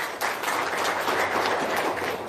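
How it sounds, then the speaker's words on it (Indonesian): Audience applause at an indoor gathering, a dense, steady clapping from many people with no talk over it. "Tepuk tangan dulu dong."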